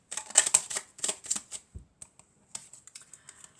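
Oracle cards are shuffled and drawn at close range, a quick run of riffling flutters followed by softer separate slides and taps, with no voice.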